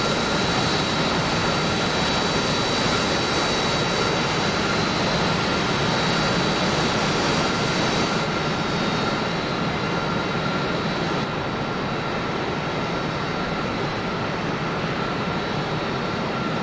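Harrier jet engine in flight in a flight simulator, a loud steady broadband roar with a high whine, continuous throughout with no talk.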